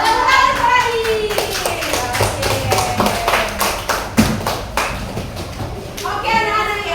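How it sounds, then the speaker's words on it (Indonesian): Children in a classroom clap their hands together in quick, uneven bursts close by, with a voice and a teacher's speech mixed in among the claps. "Tepuk tangan untuk Radin."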